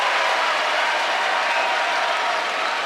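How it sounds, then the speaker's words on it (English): A packed Duke basketball crowd gives a loud, sustained ovation as a player checks in for his debut against Wofford, a continuous roar of clapping with no break. "What an applause for just checking into the game"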